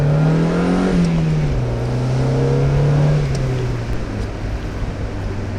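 A Mazda MX-5 Miata NA with a once-faulty fuel filter pulls hard through its gears. The loud, close engine note climbs in pitch, drops at each upshift and climbs again.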